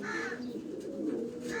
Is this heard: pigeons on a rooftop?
yes